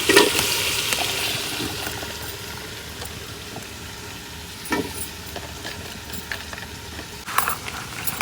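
Potatoes and vegetables sizzle in a pan alongside chicken in a village kitchen, a soft steady frying hiss with occasional stirring knocks and clatters, no one speaking.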